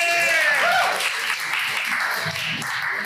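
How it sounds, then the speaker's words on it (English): An audience applauds, the clapping loud and continuous for the whole stretch, and voices can be heard under it. "Let's give them a round of applause."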